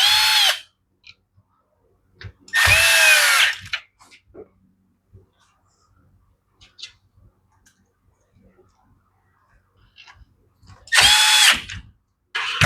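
A power drill drives a base screw into a Husqvarna housing during a coil replacement, with three loud whirring bursts separated by quiet stretches of small clicks and handling noises.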